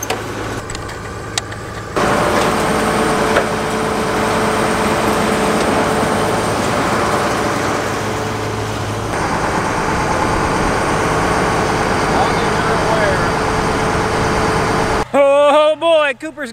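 A combine harvester rolls over an alfalfa field with a steady, heavy mechanical drone and rumble heard from nearby, lasting throughout, with a short burst of voices and noise at the end.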